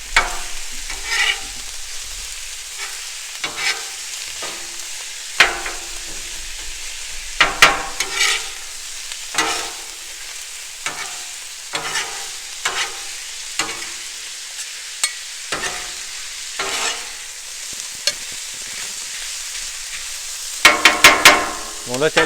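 Ground burger meat for a keto egg roll in a bowl fries on a Blackstone griddle, giving a steady close hiss broken by repeated sharp spatula scrapes and clacks against the flat-top.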